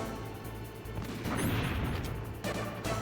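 Tank in Metal Gear Solid firing constantly, a burst of heavy crashing booms swelling in the middle and returning near the end, over a low steady rumble.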